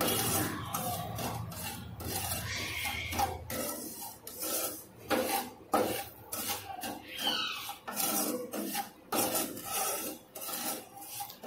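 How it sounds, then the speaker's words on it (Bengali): Semolina roasts in melted butter in a pan over low flame, a spoon scraping and rasping across the metal in steady, repeated strokes, close and unaccompanied. "এবার সুজিটাকে আবারও মোট 5 মিনিট মতো ভাজবো লো ফ্লেমে দিয়ে।"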